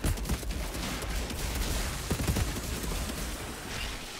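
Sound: gunfire from the video game Outriders

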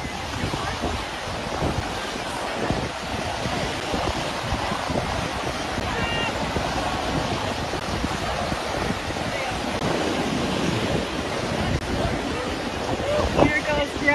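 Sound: waves at the Dead Sea shore

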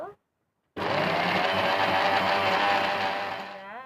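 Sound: electric grinder grinding spices

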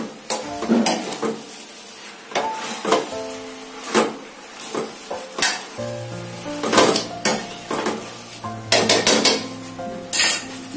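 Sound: mixing veg chowmein in a pan with a spoon

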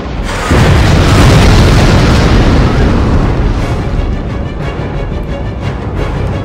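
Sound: explosion in video game Dead Space 3

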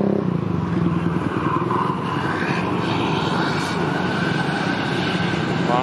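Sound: intercity bus accelerating away from terminal

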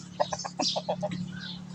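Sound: chickens clucking

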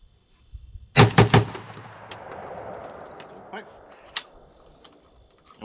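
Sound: KUSA KS-12 AK shotgun firing low brass loads

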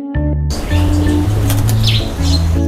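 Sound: Javan myna (jalak kebo) released, flapping wings and calls

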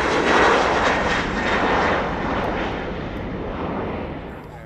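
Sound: Embraer 190 jet aircraft engines at Schiphol airport

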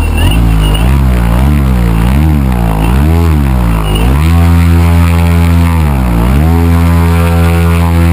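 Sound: engine throttled up on a thrust meter

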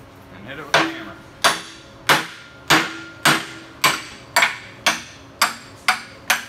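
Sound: hammer hitting welded kingpin remover

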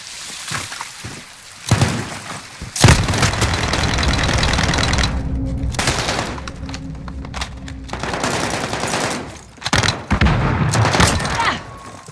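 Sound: gunfire in Call of Duty video game

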